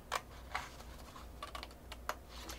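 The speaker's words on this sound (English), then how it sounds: "let me go ahead then and cut the other two edges just with my scissors" Scissors cut along the edges of paper for a scrapbook, producing a handful of quiet, crisp snips and light clicks at irregular intervals over faint background noise.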